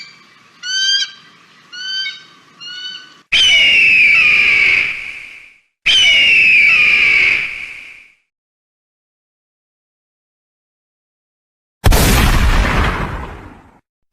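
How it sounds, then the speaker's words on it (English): Raptor cries of eagles and hawks: a few short, sharp screeching calls, then two long, loud piercing screams, followed by silence and a final harsh, noisy burst. "the sky was filled with the cries of eagles and hawks soaring above"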